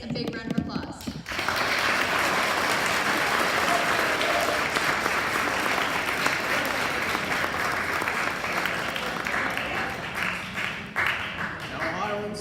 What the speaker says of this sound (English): let's give both our candidates a big round of applause